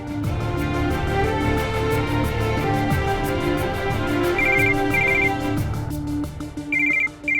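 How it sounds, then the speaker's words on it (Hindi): A phone ringtone plays repeatedly in a steady pulsing pattern in a Hindi TV drama scene, fairly close and clear, with no talking. "नैना बेटा फोन उठाना, देख मेरे दोनों हाथ खराब है।"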